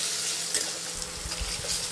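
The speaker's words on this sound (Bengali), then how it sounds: "আলুগুলো একটু ভেজে নিচ্ছি ভালো করে।" Potatoes seasoned with salt and turmeric frying in a pan for aloo dum, a dense continuous sizzle close by with a few soft stirring scrapes and no speech.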